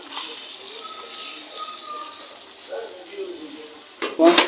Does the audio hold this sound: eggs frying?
yes